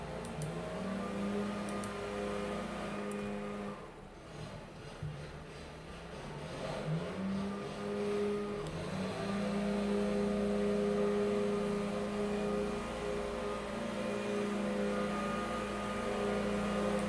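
A lawn mower drones steadily outside close to a window, a continuous harmonic engine hum that dips briefly and then rises again, moderately loud and sustained with no talking.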